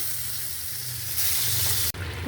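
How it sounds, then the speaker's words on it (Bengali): Sweet pumpkin pieces frying in hot oil in a home kitchen give a steady close sizzle that swells louder partway through, with a brief cut near the end. "দিতেছি তেলের ভিতরে মিষ্টি কুমড়াটা"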